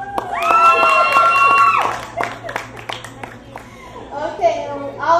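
Audience at a community program applauding youth interns of a Rites of Passage group, a short burst of clapping and cheering with children's voices shouting over it, close and lively.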